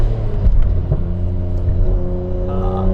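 A Nissan GT-R sports car engine revs hard on a downshift, a loud close-up growl with rising and falling pitch, no voices.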